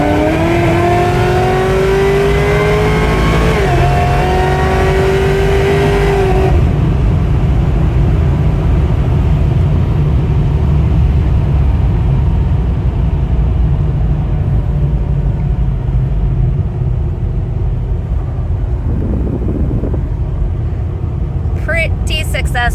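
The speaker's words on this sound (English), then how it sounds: "We're gonna try to ease in the throttle a little bit." A car engine rises in pitch as the throttle is eased in, then settles into a loud, steady roaring rumble that fills the rest of the stretch.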